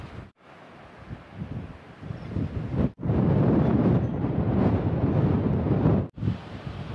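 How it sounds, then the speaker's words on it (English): Strong gusty coastal wind buffeting the microphone on a cliff-top walk along the Cleveland Way between Whitby and Scarborough, roaring loudly in surges with brief sudden drops. "I've just found a sheltered spot from the wind. It's really gusty today."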